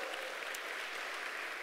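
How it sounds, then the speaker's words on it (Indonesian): A church congregation applauds during an online service, a brief, even patter of clapping heard faint and slightly distant, with no talking. "Tepuk tangan bagi Allah kita."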